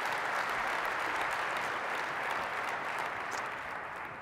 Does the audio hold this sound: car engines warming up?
no